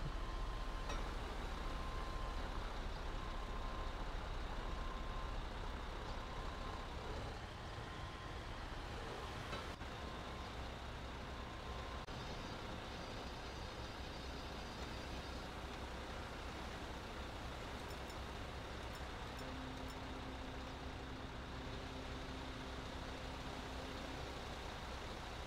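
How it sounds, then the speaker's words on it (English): A heavy wrecker truck in GTA 5 edges into position on a shut-down road, giving a steady low engine drone with faint rumbling throughout and no voices. "We're gonna put our truck into position."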